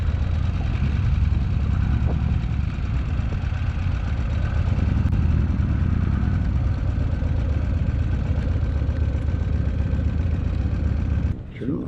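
A motorcycle idles steadily near a college football stadium at night, a low rumbling engine drone held for the whole stretch before cutting off abruptly at the end.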